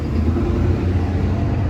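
A low, continuous rumble of a train, steady and unbroken, heard from some distance with no voices.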